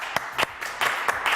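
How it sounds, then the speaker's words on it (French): Audience on a live French television news show applauding, scattered sharp claps in an uneven rhythm over a short burst, fairly close and loud. "Bravo à vous, allez, on l'applaudit."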